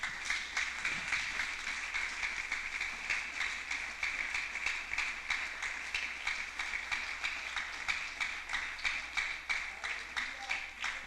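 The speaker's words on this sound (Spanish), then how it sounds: "Prendan un aplauso al Señor." A church congregation applauds steadily during a sermon, a faint, continuous wash of many hands clapping at some distance.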